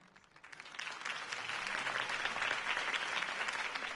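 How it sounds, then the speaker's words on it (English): Crowd applause after a campaign speech in Batman: The Telltale Series, swelling from quiet into sustained, dense clapping and cheering that holds steady to the end, with no speech over it. "If only Mr. Wayne, my campaign's largest backer, could have heard that applause"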